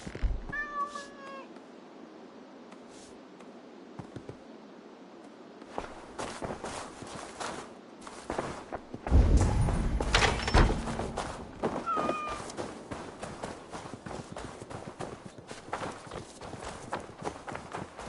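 Cats meow in Assassin's Creed Valhalla, a couple of distinct mewing calls early and another later, amid footsteps, running and scuffling game noise that grows busier midway.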